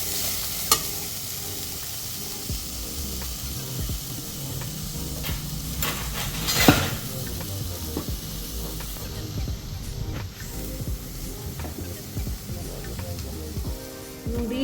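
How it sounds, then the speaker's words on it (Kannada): Onions and Guntur chillies dry-frying without oil in a pan over medium heat, giving a steady low sizzle and crackle with occasional stirring scrapes, fairly close and continuous throughout. "ಈರುಳ್ಳಿ ಎಲ್ಲ ತುಂಬ ಕೆಂಪಾಗಲಿ ಅಲ್ಲಿವರೆಗೂ ಮೀಡಿಯಮ್ ಉರಿಲೇ ಫ್ರೈ ಮಾಡ್ತೀನಿ"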